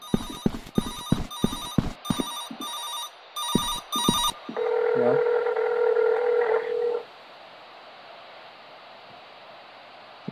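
A telephone rings in the horror video game Silent Insanity P.T.: a run of loud, sharp bell rings, then a steadier electronic tone holds for a few seconds before dropping away into quiet static hiss.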